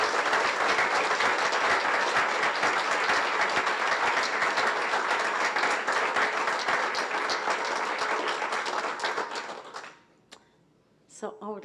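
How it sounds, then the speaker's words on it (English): Lecture hall audience at a human rights lecture giving a long round of applause, dense, sustained clapping for about ten seconds that then dies away abruptly, with a brief bit of sound after the quiet. "could we give you a round of applause?"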